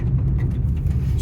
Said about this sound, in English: Oh, there's a car behind me.